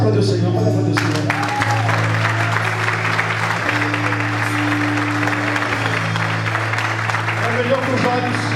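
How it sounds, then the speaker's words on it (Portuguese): A church congregation applauds through a sustained wash of clapping, with steady low musical tones and some voices underneath throughout. "pode aplaudir o Senhor, pode aplaudir o Senhor."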